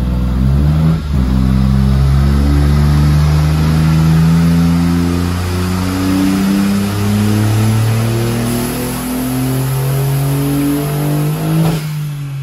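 Turbocharged Smart ForTwo M281 engine, tuned to around 200 wheel horsepower, pulling at full throttle on wastegate spring pressure, a loud rising rev that climbs steadily for several seconds before lifting off near the end.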